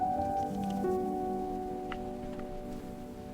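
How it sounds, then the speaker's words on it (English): Steady light rain falls on surfaces at an outdoor family picnic, a soft constant patter with a faint tone in the background and no voices. "The rain makes it cozy."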